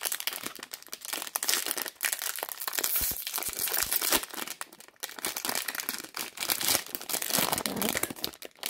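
A plastic wrapper on a Bombbar protein brownie is torn open with continuous close crinkling and crumpling, busy and loud throughout, with brief tearing bursts and no voices.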